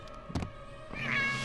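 Short cat meows from a LEGO Harry Potter video game, with a brief cry and then a longer, rising mew over a steady game background.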